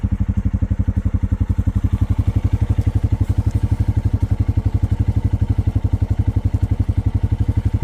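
A 2023 Honda Rancher ATV runs through snowy, unplowed woods, its engine giving a loud, steady, rapidly pulsing thrum close by with no break in the rhythm.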